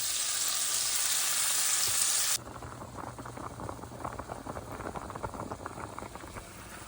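Walleye and crappie fillets frying in plenty of butter in a pan, a loud steady hiss that drops suddenly to a softer, crackling sizzle with spitting pops, no voices.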